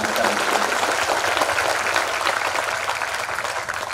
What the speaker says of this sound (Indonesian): tepuk tangan untuk hadrah jamiah